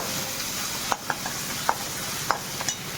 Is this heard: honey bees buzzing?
no